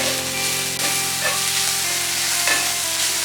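Finely chopped medium onion with a pinch of salt sautés in a pan for Kerala chicken puttu, giving a steady, close sizzle that holds throughout, with a few faint stirring scrapes and no talk.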